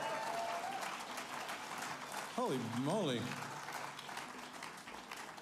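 Audience applause at the CFMA 2024 awards concert night, a sustained crowd of clapping heard from a distance, with a voice exclaiming briefly over it partway through.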